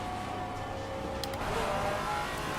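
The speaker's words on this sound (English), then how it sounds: "Glorious sound of this car is just a treat." A Maserati GT4 race car engine in a racing video game at Bathurst revs up and climbs in pitch, loud and steady, with a brief sharp click partway through.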